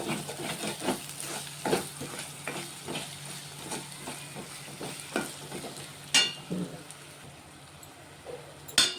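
Onions frying with asafoetida in a pan for an egg and onion tamarind curry, a steady moderate sizzle punctuated by regular stirring scrapes and a few sharper clinks near the end.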